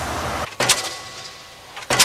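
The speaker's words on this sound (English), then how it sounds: "Some, such as the noise from double-decker buses," Double-decker bus noise in traffic: two short hissing, whooshing bursts, like air-brake or door releases, rise over a steady low road rumble, with no voices.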